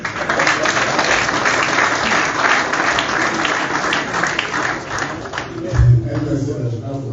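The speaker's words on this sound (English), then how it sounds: "I said I should clap for myself." An audience at a political speech claps in a steady, fairly loud wash, with a brief louder burst near the end.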